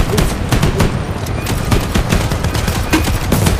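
Rapid automatic gunfire in a Roblox mech battle game, loud and dense bursts firing almost continuously throughout, close in the mix.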